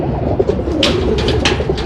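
Teddy pigeons coo from close by on a rooftop loft, giving several soft, throaty coos in quick succession, with no voices heard.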